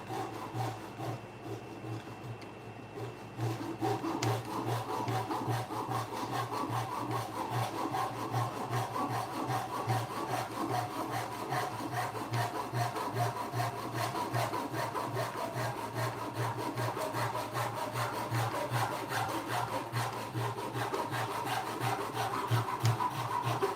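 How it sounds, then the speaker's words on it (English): Wood being sawn by hand in a home workshop, a close, steady back-and-forth rasp of strokes after a short quieter start, continuing evenly throughout with no talk. "Most people who know me know I would already saw through this by now."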